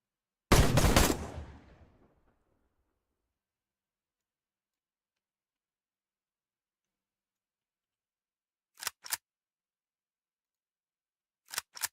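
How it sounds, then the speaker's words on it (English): In a video game, an enemy weapon makes a short burst of mechanical gunfire-like clatter that fades out, then long silence, then two pairs of sharp, clipped metallic clicks from the enemy reloading, clean and isolated. "The enemy reloaded. We have enemy reload noises."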